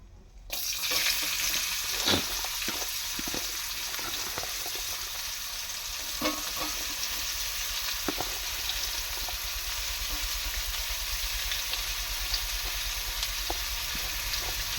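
Onions and dried red chillies fry in a pan, a continuous sizzle with occasional stirring clinks and scrapes, close and steady, no talking.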